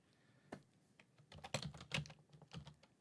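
Someone types a sentence on a computer keyboard, producing a quiet, irregular run of close key clicks with a few louder strokes, with no talk.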